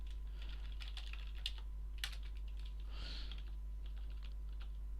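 Keys tapped on a computer keyboard while editing a Subversion password file, in short irregular bursts of clicks over a low steady hum, close and alone.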